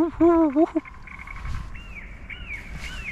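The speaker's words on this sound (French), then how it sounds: "Il y a des bruits de pan, des bruits d'oiseaux, des bruits d'aigle." A couple of short, harsh eagle calls ring out from loudspeakers at the Energylandia amusement park, followed by thin, faint bird chirps and whistles against a quiet background.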